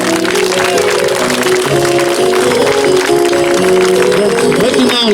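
Continuous loud clapping from an audience at a village performance of La Fontaine fables, applauding the amateur actors in a dense steady roar with crowd voices mingled in.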